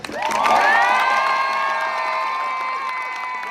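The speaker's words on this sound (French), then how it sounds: "j'aimerais que les applaudissements soient à la hauteur de la générosité qu'il a eu envers vous" An audience at a youth freestyle competition final erupts in loud cheering, whoops and shouts with applause mixed in. The noise swells quickly and holds as a sustained, close crowd roar.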